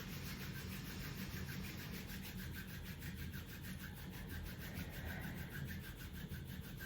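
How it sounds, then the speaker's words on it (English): Palms rub together in steady, fast back-and-forth strokes during a guided meditation, a close, continuous dry friction sound with an even rhythm and no talking. "we're going to start rubbing our hands together like this"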